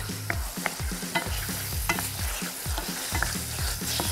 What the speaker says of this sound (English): add our tofu to the pan